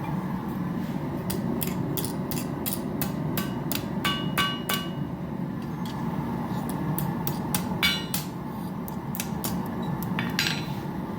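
Repeated sharp metallic hammer strikes on a titanium knife blank, ringing out in uneven bursts over a steady background hum, fairly close and loud.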